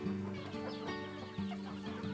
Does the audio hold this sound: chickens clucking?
yes